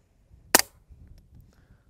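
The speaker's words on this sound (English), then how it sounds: "It still has the dead air mask on there, and we are shooting subsonic ammunition." A single sharp, short report from a suppressed Ruger Mk3 .22 pistol fitted with a Dead Air Mask, firing subsonic ammunition, close by outdoors and fading quickly into quiet.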